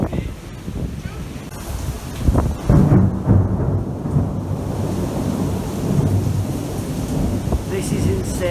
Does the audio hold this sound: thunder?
yes